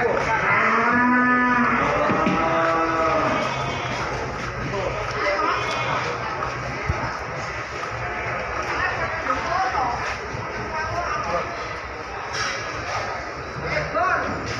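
Cattle moo loudly and repeatedly at the Pasar Kliwon cattle market in Kudus during weighing, the nearest low calls drawn out at first, with people talking and a busy crowd and clatter around.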